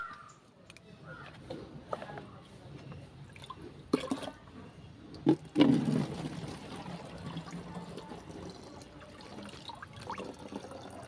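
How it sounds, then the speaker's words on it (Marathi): Water is poured into a plastic bottle outdoors in a Konkan village. It gives a brief gurgling fill near the middle, set against quiet ambient noise and occasional bird calls. "आता आपण ह्याच्यामध्ये पाणी भरूया"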